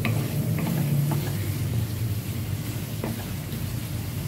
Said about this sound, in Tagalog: Then mix it. Mix again. Stir again.